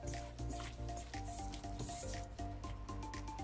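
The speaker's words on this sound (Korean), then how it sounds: "목살에 감자 전분 반컵을 넣고 버무려주세요." Pork neck is tossed by hand with potato starch, giving a soft, wet, rhythmic squishing close up, repeated over light background music.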